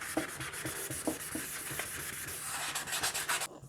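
Hand polishing a nitrocellulose lacquer finish on a Rickenbacker 620/12 guitar to remove 600 grit scratches, soft close rubbing strokes in a steady back-and-forth rhythm.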